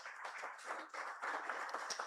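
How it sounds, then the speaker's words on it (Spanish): A church congregation claps steadily, a dense patter of many hands at moderate volume, continuing without pause and with no talk over it. "Démosle un fuerte aplauso al Señor, hermano."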